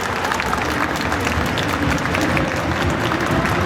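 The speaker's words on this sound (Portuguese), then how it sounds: "Eu queria uma salva de palmas para todos eles." Audience applause at an anime convention stage show fills the space, a dense steady clapping from a large crowd with no talking over it.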